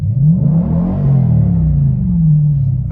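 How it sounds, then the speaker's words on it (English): A car engine with a custom DiabloSport tune revs up, its exhaust growl rising and falling in pitch across a single loud, sustained rev. "really rev that up and get that high RPM growl and show off that exhaust system"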